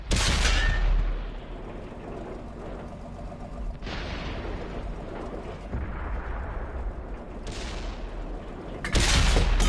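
Tank cannon firing in a PS4 video game, loud booming blasts at the start and end with rumbling battle noise in between, no talk.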